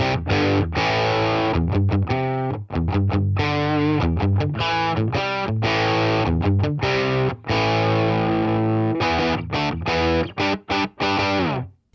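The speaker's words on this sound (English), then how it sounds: "BG Lead is a Mesa Boogie Mark IV, supposedly." Electric guitar played through a Boss Katana amplifier's BG Lead model, a Mesa Boogie Mark IV voicing, giving a loud, distorted lead tone with chugging chords and sustained notes, briefly cut by short stops, with no talking.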